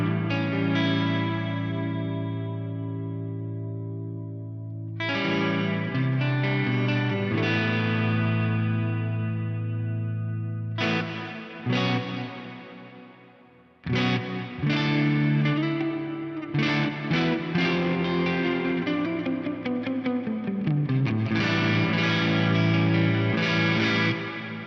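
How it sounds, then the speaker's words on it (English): A distorted electric guitar played through a GFI Specular Tempus pedal set to a big ambient reverb with long pre-delay rings out in sustained chords and phrases, each trailing into a lush, washy tail, with no talking. "I'm going to go for a big ambient reverb with a long pre-delay"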